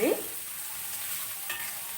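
Close, steady sizzle of a tomato and broad bean curry frying in a pan, opening with a brief scrape of stirring and another light stir near the end.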